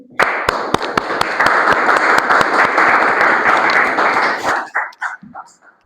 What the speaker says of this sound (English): With a huge round of applause, please help me welcome Toastmaster Pratik